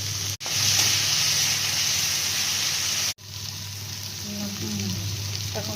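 Onion, tomato and green chili frying in a pan for an aloo borboti sabji: a loud, steady sizzling hiss broken by two brief sharp cut-offs as ingredients drop in, with a voice talking softly underneath.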